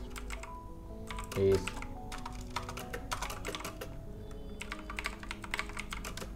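Keys clatter on a computer keyboard as HTML/CSS code is typed, a steady run of close, crisp clicks beneath someone speaking Bengali.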